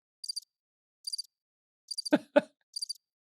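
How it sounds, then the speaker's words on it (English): Crickets chirping in short, evenly spaced bursts of high trilling pulses, crisp and close against near silence, with two brief lower knocks in the middle. "Oh, crickets."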